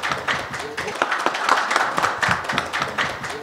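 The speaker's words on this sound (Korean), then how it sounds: "뜨거운 박수로 환영해 주시기 바랍니다." An audience at an academic session on AI-based administration and legislation claps to welcome a presenter, a dense, steady round of applause heard close and fairly loud throughout.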